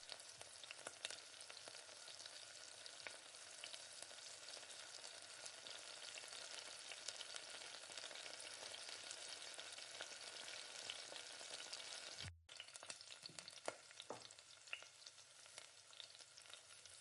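Chopped tomatoes sauté in a pan for mutton curry, giving a steady, even sizzle and frying hiss throughout, with a brief cut near the end followed by a few light clinks of a ladle.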